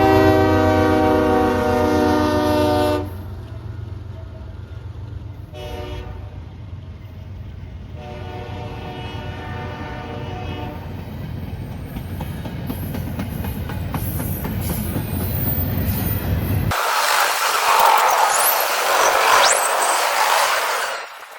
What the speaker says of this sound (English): Our next CSX train, 2 Jevos like usual with a lot of intermodal cars.